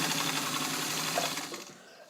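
Restored Singer 66 domestic sewing machine, modified for extra heavy sewing, stitching thick material with a dense, fast mechanical whirr that runs steadily and then slows and fades toward the end.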